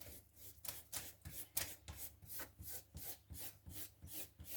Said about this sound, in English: I'll rub this one out then.